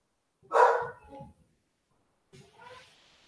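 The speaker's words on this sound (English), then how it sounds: "now the dog's barking the whole time" A dog barks in two short bursts near the microphone, a loud yelp-like call followed by a quieter second round after a pause.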